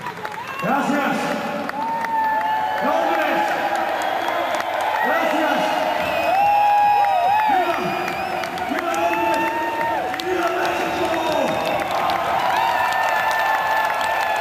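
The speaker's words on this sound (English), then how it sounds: "the crowd really enjoying this unusual, unique and fantastic spectacle" A crowd cheers and whoops loudly and steadily at a lucha libre wrestling show held in an art gallery, Satanico and Ultimo Guerrero against Rey Bucanero, with clapping mixed in and voices shouting over the din throughout.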